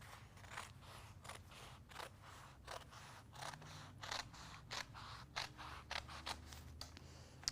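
Scissors snipping excess off bonded applique fabric, a quiet, close series of crisp, irregular cuts repeating throughout, with no one talking.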